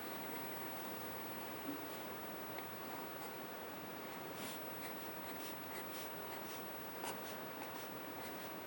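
Pen scratching across paper while drawing a sun in a bullet journal, a faint continuous close-up rasp with light scattered strokes and taps.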